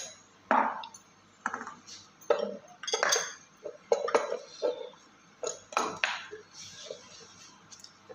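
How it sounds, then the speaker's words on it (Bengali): A bowl is handled in a home kitchen while cooking, with a series of close ceramic and metal clinks, knocks and scrapes in irregular bursts over a quiet background. "তো নিলাম একটা বাটি"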